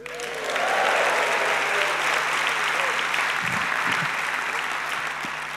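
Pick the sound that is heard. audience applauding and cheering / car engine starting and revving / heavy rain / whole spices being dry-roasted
audience applauding and cheering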